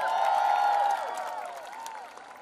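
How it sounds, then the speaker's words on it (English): Audience applause and crowd noise at a Malang movie promotion event with Disha Patani and Aditya Roy Kapoor, a sustained wash of clapping that eases after the first second, with faint voices mixed in. "Please give them a huge round of applause."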